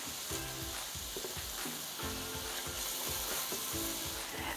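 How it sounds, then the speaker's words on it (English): Onions and peppers sizzling in butter in a pan, a continuous close crackle punctuated by repeated scraping stirs, steady and moderately quiet with no voices. "There's just something about onions cooking in butter that I absolutely love."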